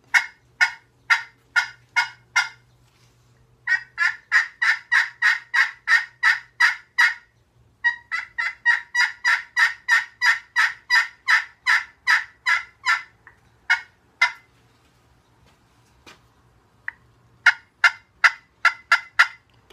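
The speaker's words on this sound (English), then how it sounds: "This is a Coca-Bola striker. Runs a little more higher pitch." Rapid runs of high, raspy yelps from a turkey call played with a cocobolo wood striker, in bursts with short pauses between, close and loud with no voices.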